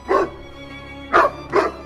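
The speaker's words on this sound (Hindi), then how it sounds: "तभी वहां पे एक कुत्ता आता है और वो दोनों कौवों पे हमला कर देता है।" A dog barks three times in short, loud bursts as it attacks a pair of crows, with quiet gaps between the barks and no talking.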